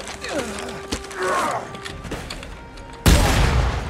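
A sudden loud gunshot in Dead Space 3 bursts near the end after quieter scattered sounds and brief vocal noises, followed by a lingering noisy tail.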